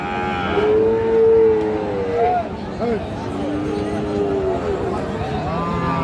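Cattle, Friesian and crossbred bulls and calves at a cattle market, moo repeatedly in long, drawn-out calls, fairly close, with voices talking underneath throughout.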